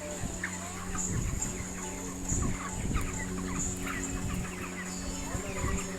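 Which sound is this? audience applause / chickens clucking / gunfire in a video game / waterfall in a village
chickens clucking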